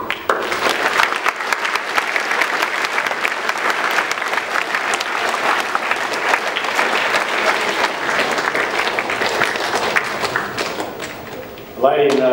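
A school audience applauds four Cronulla High students with steady, dense clapping that holds for about eleven seconds, then fades before a voice cuts in briefly at the end.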